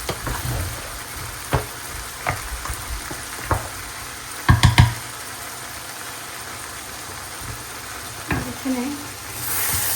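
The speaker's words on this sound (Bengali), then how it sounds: "ভাজিটা একটু নেড়ে দিই।" Vegetable fry being stirred in a pan, with a soft sizzle under scattered scrapes and clatters of the spatula, including a quick cluster of knocks midway; a voice speaks briefly.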